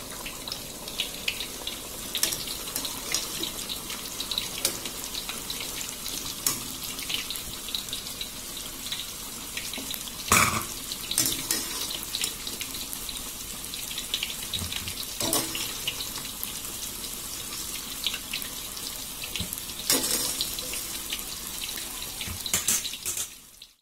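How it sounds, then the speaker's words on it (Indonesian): Water from boiled potatoes poured off through a strainer into a sink, a continuous splashing rush with a few louder gushes and clatters, close by and without talk. "Saya akan angkat dan saring airnya."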